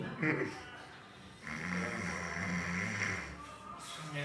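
A snoring sound effect: a short snort near the start, then a sustained, rasping drone that carries steadily for a few seconds at moderate loudness.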